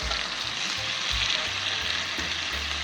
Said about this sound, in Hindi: अच्छा सा कुक हो रहा है हमारा चिकन